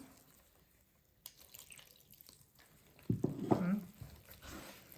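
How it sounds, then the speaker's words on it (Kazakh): Water is poured briefly into beaten eggs for manti dough, a short splashing trickle after quiet handling noises and faint drips. "тағы да суды құямыз."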